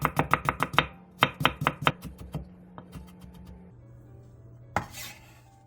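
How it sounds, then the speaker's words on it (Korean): A knife finely chops onion and carrot on a cutting board with quick sharp rhythmic knocks in two rapid bursts, then sparse taps and a lone louder scrape, close and without voices. "양파 4분의 1개와 당근 3장도 잘게 다져주세요."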